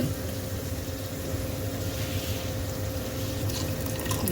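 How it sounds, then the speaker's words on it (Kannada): Steady running water, like a stream poured from a jug, continues throughout at moderate level with a faint hum underneath, as water is poured into a cooking pan with masala for chitranna. "ಒಂಚೂರು ನೀರು ಹಾಕಬೇಕು ಅಷ್ಟೇ"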